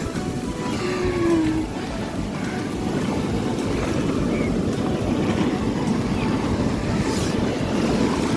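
Large ocean waves break and roll continuously onto a beach, a broad, steady roar of surf that fills the whole stretch, with faint wind and distant background noise.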